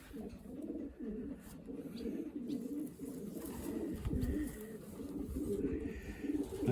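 A young racing pigeon coos steadily in low, rolling phrases while being handled up close, the calls continuing throughout with no talk.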